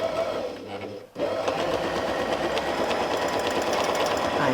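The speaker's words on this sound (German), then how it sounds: "von hier aus können wir nun unseren nächsten Bogen nähen" A domestic sewing machine stitches a curved quilting arc guided by a ruler, its motor whirring steadily and close, pausing briefly about one second in before resuming a continuous drone.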